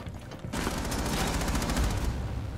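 Burst of rapid gunfire in Rainbow Six Siege, a dense fusillade of sharp cracks lasting about a second and a half after a brief quiet start.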